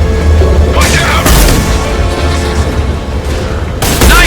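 Gunfire in the video game Mass Effect 2 during a firefight, heavy booming shots and bursts layered over continuous loud game sound, with a voice speaking briefly.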